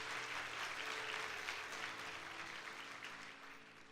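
Church congregation applauding during a Sunday service, a dense, sustained wash of many hands clapping at once that holds steady and then tapers off slightly toward the end, with no talking over it.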